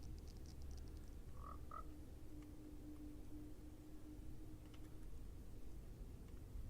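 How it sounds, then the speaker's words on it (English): Frogs in Minecraft croak in a couple of short, low calls over a quiet ambient bed, with faint keyboard clicks nearby and no talking. "These ambient noises are not helping my nervousness with transporting frogs."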